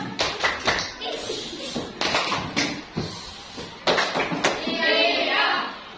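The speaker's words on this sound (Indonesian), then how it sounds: "Beri tepuk tangan untuk Esther." Scattered hand claps from a primary school class in a classroom, uneven bursts of clapping over about six seconds with children's voices talking through them.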